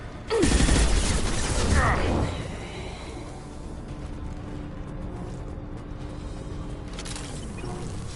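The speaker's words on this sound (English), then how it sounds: "Shotgun!" Shotgun fire in Mass Effect Legendary Edition: a loud, close blast at the start with heavy rumbling that lasts about two seconds, then fades to low mechanical ambience with faint hums and a softer burst near the end.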